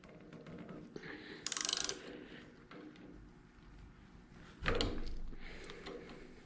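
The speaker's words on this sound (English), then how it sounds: "I'm going to use my torque wrench to reverse" A torque wrench ratchets in reverse while an AR rifle chambered in 6.5 Creedmoor is assembled. Two short, close clicking bursts stand out over quiet workshop background.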